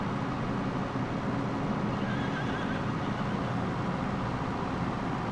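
Horses neigh in Farming Simulator 25, their calls blended into a constant wash of farm machinery and engine rumble that stays loud and even throughout.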